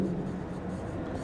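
Someone writes on a board during a Class 9 physics lesson on force and laws of motion, producing a soft, continuous scratching stroke that is close and steady for about a second.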